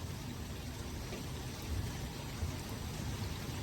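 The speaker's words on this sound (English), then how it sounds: "Thunderstorms." Steady rain pours down during a severe thunderstorm with flash flooding, making a dense, even hiss with low rumbling underneath and no talk over it.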